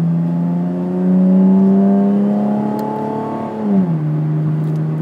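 A Chevrolet Camaro RS engine drones steadily at highway speed in manual mode, its pitch rising gradually, then dropping sharply as it shifts gear near the end, with no voices.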